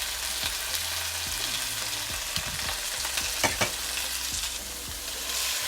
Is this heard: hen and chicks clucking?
no